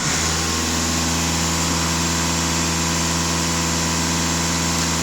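A Volkswagen Passat diesel with the CRLB engine idles steadily, a close, even mechanical hum with a constant low drone that holds unchanged throughout, with no voices.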